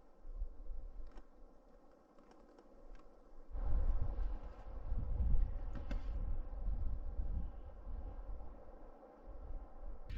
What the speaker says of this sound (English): there is no sound out here except wind blowing in the pine trees